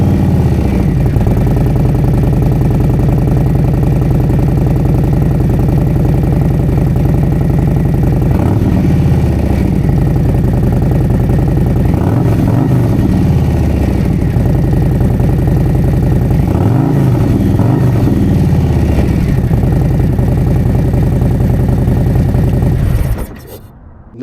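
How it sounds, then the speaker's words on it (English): A 2026 Harley-Davidson Low Rider ST idles steadily up close with a deep, loping exhaust rumble, punctuated by several short throttle blips around the middle before it cuts off abruptly at the end. "Now let's see how this exhaust sounds."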